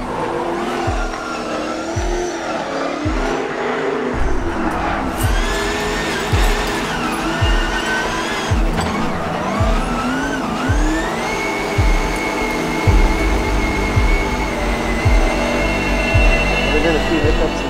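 Formula Drift Pro2 cars run on track, engines revving and screaming with tire squeal and skids, some passes near and some farther away, under intermittent talking.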